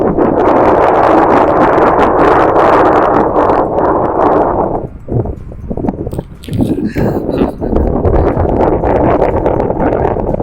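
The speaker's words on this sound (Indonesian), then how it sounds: "Anginnya ini kencang guys." Strong wind buffets a microphone outdoors, a loud, continuous rumbling roar that dips briefly midway before surging back.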